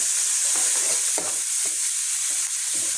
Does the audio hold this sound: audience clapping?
no